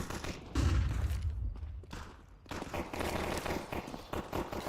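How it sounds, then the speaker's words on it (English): A flashbang grenade bursts during a Counter-Strike 2 match, a heavy thump early on followed by a scatter of sharp cracks and gunfire-like pops from the surrounding round. "Grenade! Throwing a flashbang."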